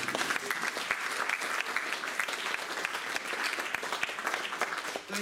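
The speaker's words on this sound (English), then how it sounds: "That was about the level of applause I got that night as well." Audience applause following a folk song at a small village venue, steady, dense clapping lasting several seconds without speech.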